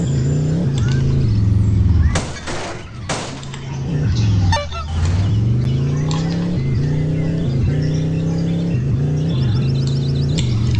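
A car engine in the video game Dude Theft Wars drones loudly and continuously, its pitch rising and falling with acceleration and gear changes, with brief thumps and game effects mixed in.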